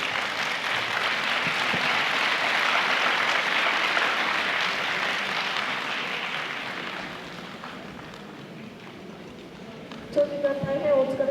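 A large audience claps steadily for several seconds at the end of a lecture in Nihonmatsu, Japan, the applause gradually fading away before a voice begins at the end.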